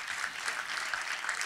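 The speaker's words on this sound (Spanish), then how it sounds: "Tenemos que darle un aplauso a Él" A church congregation breaks into applause, brief, dense and continuous clapping from a crowd filling the room.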